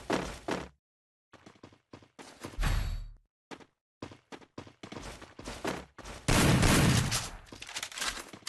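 Gunfire in the mobile game Free Fire: bursts of shots and short single bangs scattered across the stretch, with gaps between, loudest in a dense burst near the end.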